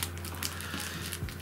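A small plastic bag package holding a LanLan Wolf Tooth puzzle is opened up close, giving a steady soft crinkling and rustling for the whole moment with no talk.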